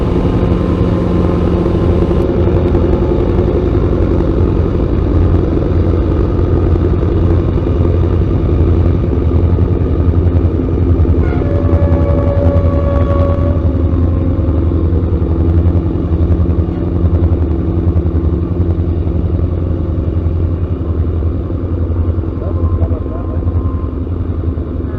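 A CSX train rumbles past at Savannah, a steady heavy low drone with engine throb and clatter lasting throughout, loud and close, with a brief higher tonal whine partway through.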